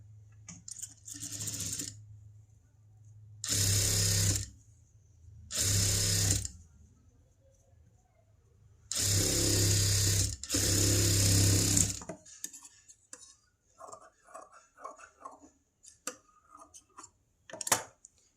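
An electric sewing machine runs in four loud bursts of a few seconds each, stitching along a blouse edge. Quiet pauses and soft handling noises fall between the bursts.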